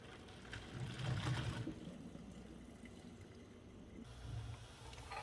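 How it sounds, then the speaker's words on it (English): Cooked ziti pasta being drained, with water pouring and splashing in a quiet, low rush that swells near the start and again briefly toward the end; no talking. "Now I'm going to drain it, but I'm not going to rinse it."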